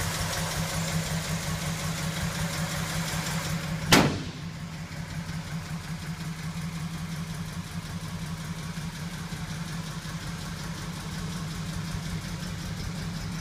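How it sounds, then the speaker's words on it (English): A rebuilt flathead V8 with dual carburetors in a 1940 Ford truck street rod idles steadily with a low, even rumble; a single sharp click or knock sounds early, then the idle continues. "It has its original flathead V8 engine that's been rebuilt"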